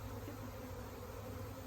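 Honeybees buzzing during removal of a hive from a holly bush, a faint, continuous drone of many insects with no voices.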